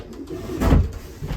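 A single low, rolling coo from a racing pigeon in a loft, close and fairly loud, swelling briefly in the middle before fading into soft background murmuring.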